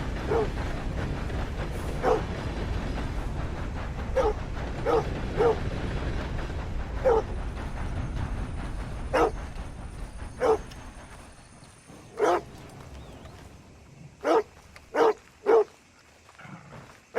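A dog in Red Dead Redemption 2 barks in sharp single yaps, some close and some farther off, spread irregularly over about seventeen seconds above a low background rumble, with quicker bursts of barking near the end.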